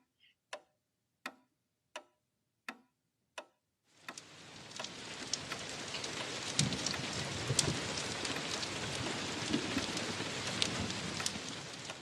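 Steady rain falls on a spring day, filling the air with a dense, even patter after a few sharp, evenly spaced ticks at the start.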